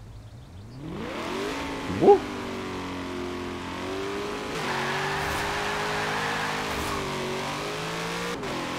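Mid-engine Chevrolet Corvette C8 with a drift build in Forza Horizon 4 revs up sharply, then settles into a loud, steady engine drone with small pitch shifts, and a voice briefly whoops over it.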